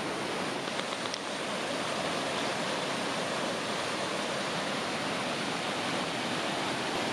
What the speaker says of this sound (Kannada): ಸೊ ವಾಟರ್ಫಾಲ್ ತೋರಿಸ್ತೀನಿ ಬನ್ನಿ